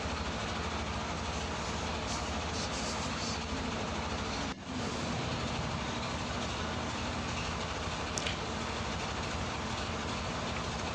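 A power planer runs continuously as it planes the back of an end grain wooden cutting board, a loud, steady machine roar with one brief dip partway through.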